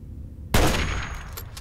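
A single loud gunshot from a super mutant's sniper rifle in the game Fallout 3 cracks out after a brief quiet, its report decaying into a long rumbling tail.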